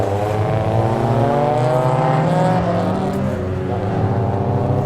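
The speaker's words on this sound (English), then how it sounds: "The gas blips really fast." Car engine fitted with eight individual throttle bodies, revving close and loud with fast throttle blips and a steady, shifting engine tone throughout.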